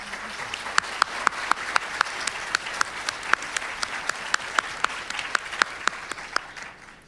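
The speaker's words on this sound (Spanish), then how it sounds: "Y les voy a pedir un aplauso para ellos." An audience applauds steadily at a conference or lecture event, a sustained wash of clapping with sharp individual claps standing out, moderately near, with no talk over it and fading toward the end.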